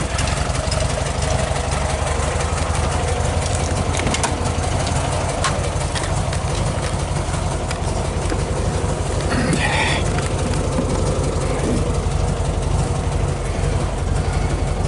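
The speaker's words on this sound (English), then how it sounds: "The engine is probably warming up by now." A 1969 Volkswagen Beetle engine running on the move through a warm Queensland neighbourhood, a continuous loud mechanical drone with road noise throughout and a brief clunk partway through, no talking.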